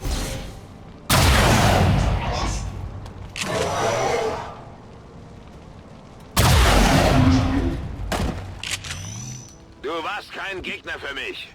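In XCOM 2: War of the Chosen, a soldier fires Chain Shot at an Archon: two loud, sharp blasts a few seconds apart, each trailing off into mechanical clatter, followed by whirring alien sounds.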